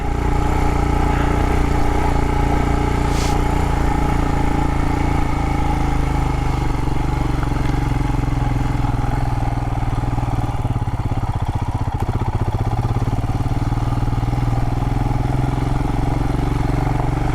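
A motorcycle engine drones loudly and steadily throughout a ride along a canyon road, with rumbling low tones, shifting revs and wind noise, no talking.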